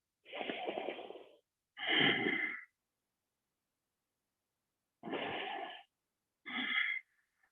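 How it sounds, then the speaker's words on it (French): Four slow, close breaths during a yoga pose for people over 55. Each breath is a soft airy rush, inhale and exhale alternating and separated by quiet pauses, with no talk. "Et prends encore 3 cycles de respiration."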